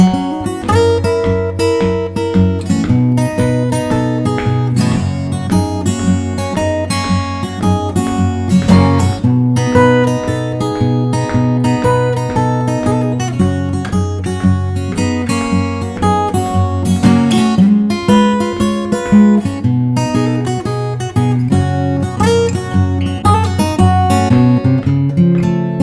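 Solo acoustic guitar plays a full 12-bar Delta blues practice routine, with steady alternating bass under ringing treble licks, continuous and close for the whole passage with no talking.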